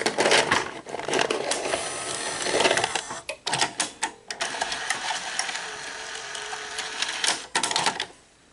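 An NEC VC-N20EU VCR mechanism threads tape while its belts slip, giving irregular mechanical clicks, clacks and whirring with sharp bursts and short pauses, fairly close and fading out at the end.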